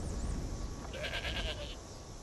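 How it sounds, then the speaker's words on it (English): A goat bleats once in the video game Skyrim, a short wavering cry set against a constant low ambient rumble, fairly faint and mid-distance. "Maybe it's his goat."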